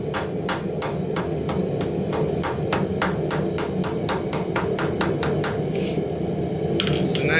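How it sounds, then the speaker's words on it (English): Sharp metallic ball peen hammer blows on hot metal ring out in a steady, fast rhythm, about twenty strikes, forging a leaf shape over a constant low roar of background noise. "got my ball peen hammer here, turning the leaf upside down and hitting with the ball."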